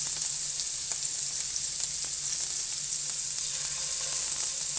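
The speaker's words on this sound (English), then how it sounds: "sit in that nice hot oil. It's beautifully golden brown." Scallops searing in hot oil in a pan give off a steady, bright, continuous sizzle with faint crackles, close and even throughout.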